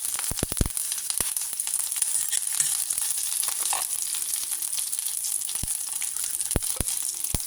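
Mustard seeds fry in hot oil for a Kerala-style purple yam kichadi, giving a continuous bright sizzle broken by sharp, scattered pops and crackles, close and alone.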